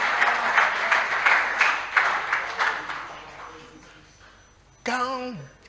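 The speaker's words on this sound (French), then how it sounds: "clap for Jesus" Congregation at a church service clapping for Jesus, a dense wash of applause that gradually fades, followed by a brief higher voice or instrument-like tone near the end.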